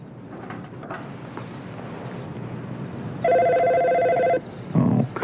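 An old landline telephone bell rings once in a single sustained electronic trill, fairly loud over a quiet room hum, followed by a short burst of another sound.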